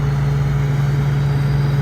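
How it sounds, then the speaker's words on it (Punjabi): A steady, rumbling tractor engine runs close by at an even idle during a wheat harvest, with a deep constant hum and no change in pitch or loudness. "ਲਓ ਜੀ ਆ ਗਿਆ ਟਰੈਕਟਰ"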